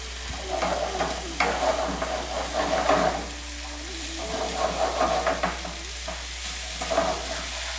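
Tomato paste, onions and spices for chicken bhuna cook over a high flame, a close sizzle broken by repeated rhythmic bursts of spoon stirring and scraping against the pan, under a steady low hum.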